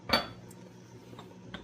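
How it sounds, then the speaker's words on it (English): A spoon clinks against a pot while pasta e ceci is stirred, one sharp metallic scrape followed by a few faint taps, quiet and close with no talking. "Give that a good stir."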